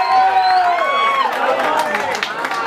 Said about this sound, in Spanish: fuerte aplauso para ese público bello de esta noche